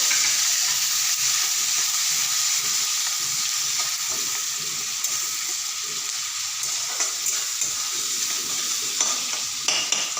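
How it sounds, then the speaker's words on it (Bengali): Onions frying in oil in a home kitchen, giving a steady, fairly loud sizzle with stirring scrapes throughout and no voices. "এখন দিয়ে দিচ্ছি পেঁয়াজ। পেঁয়াজটা অল্প ভেজে নিয়ে আগে।"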